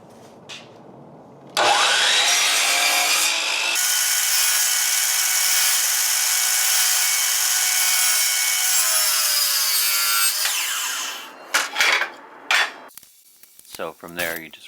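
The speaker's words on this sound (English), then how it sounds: "I'm going to cut a little bit long and then slowly work my way up to the line" A saw makes one long, steady, loud cut through a miter in wooden crown moulding, then stops, followed by a few light clatters and knocks of the trim being handled.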